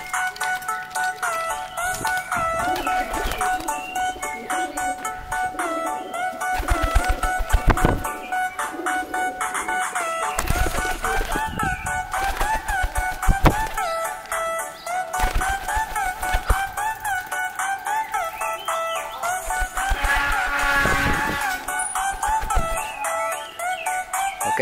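Domestic pigeons, a gambir bird paired with a silver, giving repeated cooing courtship calls that stand out over a steady background din of other birds, fairly near and continuous.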